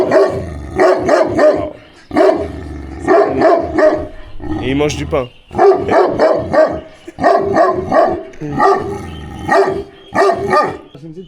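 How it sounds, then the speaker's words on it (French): Large dogs in Azerbaijan bark repeatedly in short bursts at moderate distance, mostly under steady conversation, with a brief pause in the talking midway. "Regardez les chiens, ils sont énormes, ils sont très gros"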